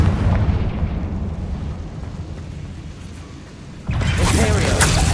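Confringo spell explosion in the video game Hogwarts Legacy; a rumbling blast fading over a few seconds, then a second loud burst with crackling debris near the end.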